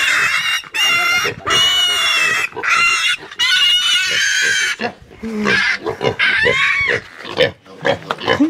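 Pigs in an African village squeal loudly and shrilly as they are caught, in long piercing bursts with brief gaps, while chickens cluck nearby and voices are heard.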